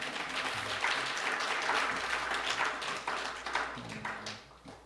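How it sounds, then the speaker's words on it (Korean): Congregation applause in a church service, a broad steady patter of many hands clapping at moderate level, tapering off toward the end. "우리 박우름 목사님 박수로 축복해 주십시오"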